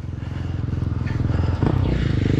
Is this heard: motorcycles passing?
yes